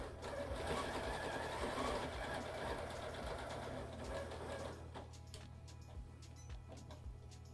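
Janome 9480 quilting sewing machine with an accurate stitch regulator, stitching along a ruler: a steady, close mechanical whir with rapid needle ticking that drops to a lighter, intermittent rattle in the last few seconds.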